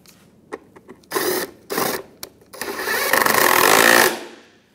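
A 10 millimeter bolt is threaded into an Acura MDX fog light housing with a quick buzzing power driver, first in short bursts, then a sustained run of about a second that stops abruptly, close up and without talking.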